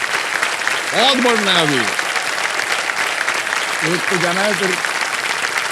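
Studio audience applause on the TV quiz show KBC, steady dense clapping throughout, with someone talking over it.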